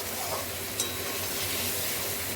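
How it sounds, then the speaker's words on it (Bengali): Koi fish in masala sizzles loudly and steadily while being stir-fried, with a single brief utensil clink partway through. "প্রায় 2 মিনিটের মতন কষিয়ে নিয়েছি, তাই এখানে জলটা দিয়ে দিলাম।"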